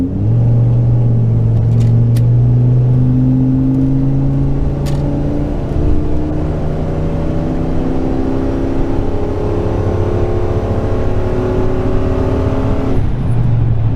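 A lifted Ford Econoline camper van with a 6.8-litre V10 accelerates uphill, its loud engine drone climbing steadily in pitch for most of the stretch before easing off near the end, with no talking.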